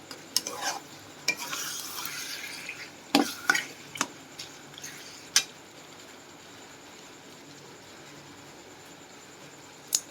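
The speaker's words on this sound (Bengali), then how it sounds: "এখন এটা একসাথে মিশিয়ে দিলাম মাংস দিয়ে" Spice marinade being mixed into chicken in a pot: a soft, steady sizzle beneath occasional sharp clicks and scrapes of a spoon against the pot, fairly quiet and close.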